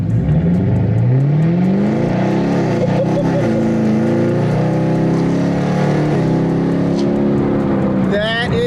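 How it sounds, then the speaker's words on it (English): A loud, deep Chevrolet Camaro ZL1 muscle car engine rumble with throaty exhaust burble, rising and falling as the throttle is blipped on a dyno, heard close up and steady throughout. "This is what a muscle car sounds like."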